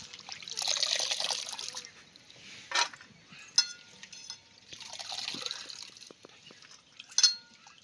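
Waghata vegetables are swished and rinsed in two or three changes of water, with bursts of sloshing and splashing broken by drips and light clinks of a container.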